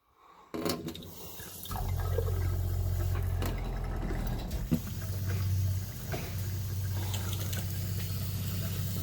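A tap runs steadily into a sink in a self-built VW Crafter campervan, a continuous watery rush that starts after a couple of clicks and flows for several seconds at close range, with small knocks and clatter in between.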